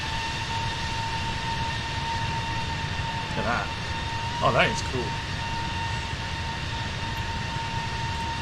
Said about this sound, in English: enjoy the outside view one more time with the noise of the Pratt & Whitney engines